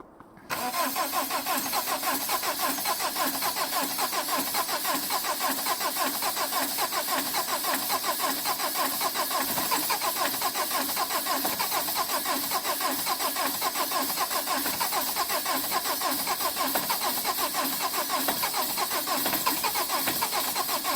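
2009 Subaru Impreza engine cold starting at -16°C, silence then the engine catches abruptly and settles into a steady loud running idle that continues unbroken throughout.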